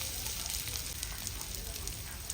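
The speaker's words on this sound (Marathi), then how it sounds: "कांदा आपला नरम होत आलेला आहे आता आपण त्यामध्ये हे टोमॅटो घालूया" Softened onions frying in oil with tomatoes just added give off a steady, soft hiss of sizzling that holds evenly throughout.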